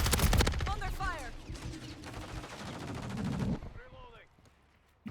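Rapid bursts of gunfire in a Call of Duty: Modern Warfare III match with an HRM-9 SMG, dense crackling shots for several seconds under in-game chatter, then fading to quieter effects.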